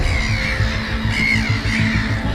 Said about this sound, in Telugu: లక్షలాది పక్షులు ఆకాశాన్ని కప్పేశాయి